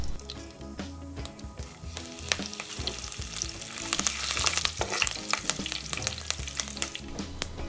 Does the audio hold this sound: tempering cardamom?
yes